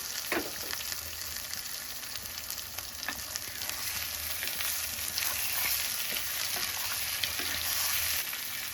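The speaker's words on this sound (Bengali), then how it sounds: "এবার এর মধ্যে আমরা গোস্তগুলো দিয়ে নিচ্ছি। গোস্ত দিয়ে একটু ভালো করে নাড়াচাড়া দিয়ে নিতে হবে।" Chicken pieces fry with browned onions in a pan, giving a constant bright sizzle close by, broken by occasional soft scrapes and knocks of a spoon stirring, with no voices.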